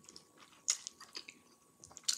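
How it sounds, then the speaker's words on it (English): Crunchy sweet and sour chicken breast chewed up close, with quiet sporadic crisp bites and crunches between soft chewing, alone and without talk. "I like that little crunch on my chicken breast."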